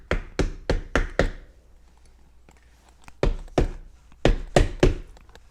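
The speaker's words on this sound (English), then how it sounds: "we're going to give it a few more knocks" Someone knocks on the sides of a cooler to free trapped gas bubbles while making clear ice: a quick run of five hollow thunks, a pause, then two more bursts of three loud knocks each.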